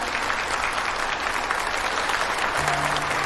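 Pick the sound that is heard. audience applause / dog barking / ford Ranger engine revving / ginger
audience applause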